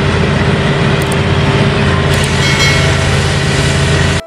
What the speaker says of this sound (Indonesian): Kereta Thomas warna merah, teman-teman.